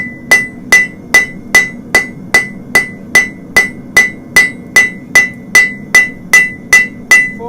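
A blacksmith's hammer strikes hot metal on an anvil in a steady rhythm, about fifteen sharp ringing blows spaced evenly, loud and close with no talking.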